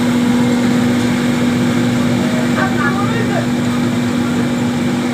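Puffed rice making machine running in a factory, a loud continuous mechanical drone with a strong steady hum, with faint voices briefly over it.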